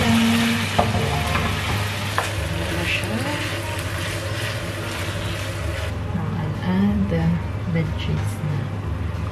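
Marinated beef strips for a Mongolian beef and snow pea stir-fry sizzle steadily in a pan, a constant loud hiss with occasional clinks, while someone talks over it.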